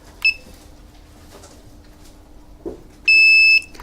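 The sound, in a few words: Wisen alarm panel beep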